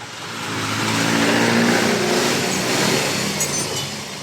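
A motorcycle engine runs steadily after a crumbled spark plug was replaced, idling roughly as a continuous loud, close droning rumble that swells slightly and holds for several seconds without talk.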